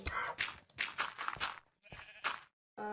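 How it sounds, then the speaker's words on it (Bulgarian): A donkey in Minecraft brays in a few rough, bleating bursts that stop and start, loud and close, with no talking. "това магаре аз го привлякох."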